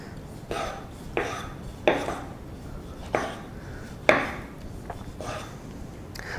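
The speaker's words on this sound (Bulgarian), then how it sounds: "Така, нарязваме домата на купчета." A knife chopping a tomato into pieces on a cutting board, with about six distinct, unhurried chops, each a sharp close thud against the board, over quiet room background.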